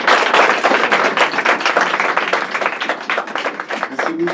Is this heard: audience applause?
yes